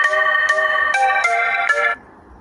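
A telephone ringtone plays as a repeating electronic melody in five quick pulses, loud and close, then cuts off abruptly, leaving near silence.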